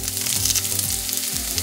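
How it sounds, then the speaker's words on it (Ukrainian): Onion sizzling and frying in a pan for a Carpathian mushroom sauce, a steady close crackle throughout with a low background hum and no voices. "На сковорідці обсмажуємо цибулю."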